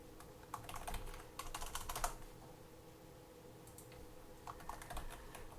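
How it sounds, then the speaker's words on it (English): Quiet clatter of typing on a computer keyboard, bursts of rapid keystrokes with short pauses between them, close and soft over a faint steady hum. "let me type this out"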